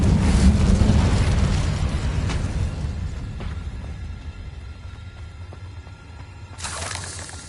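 Confringo fire spell from Hogwarts Legacy going off as a loud, rumbling blast that decays over several seconds, with a brighter burst flaring near the end.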